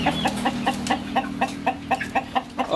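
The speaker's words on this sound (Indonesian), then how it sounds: "Saya memulai dari 10 ekor ayam. Ini indukannya ayam saya." KUB breed breeding hens cluck close by in a quick, steady rhythm of short repeated calls over a low background hum.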